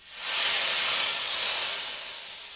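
Mustard seed tempering with curry leaves is poured into a pot of rasakalan curry, setting off a loud, sharp hiss that swells quickly and then slowly fades over a couple of seconds.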